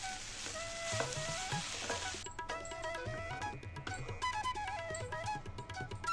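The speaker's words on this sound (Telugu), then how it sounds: "ఒకసారి బాగా కలిసేలాగా మిక్స్ చేసుకుంటే మనకి టమాటో రైస్ రెడీ అయిపోతుంది" Tomato rice being stirred and mixed in a hot pan, with a continuous sizzle and scraping of the spoon against the pan, alone and fairly close.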